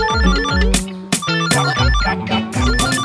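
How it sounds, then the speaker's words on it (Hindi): A mobile phone plays a loud, melodic ringtone close by, a bouncy repeating tune of bright electronic notes running without pause and heard alone. "फोन बज रहा है।"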